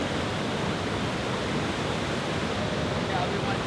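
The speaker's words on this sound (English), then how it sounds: "So we're still at the waterfall" A waterfall roaring as a loud, steady, unbroken rush of water close by, filling the whole scene without pause.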